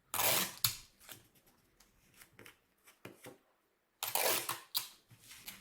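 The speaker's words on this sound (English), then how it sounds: "then I can use my tape to secure it" Tape is pulled and pressed on to secure a homemade pinhole camera built from a spice jar, giving sharp, close ripping and crinkling bursts with quiet gaps between them.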